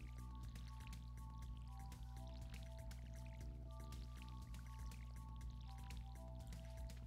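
Watering plants in the farming video game Stardew Valley gives soft repeated drips and splashes, quiet under steady background game music.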